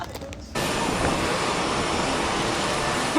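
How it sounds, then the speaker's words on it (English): Steady broadband engine roar fills an airplane cabin in flight, loud and constant after a quieter opening half-second. "We're on the plane."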